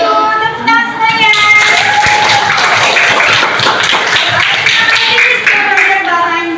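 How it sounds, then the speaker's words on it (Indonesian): A school class claps together, a dense burst of hand clapping from many people that follows a brief stretch of voices and holds steady for several seconds, close and loud. "tepuk tangan semuanya."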